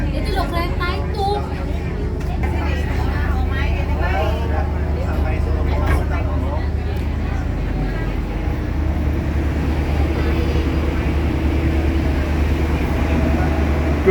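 A passenger train on the Jogja–Wonogiri line rumbles with a constant low roar, heard from on board and fairly loud throughout, with people talking over it early on.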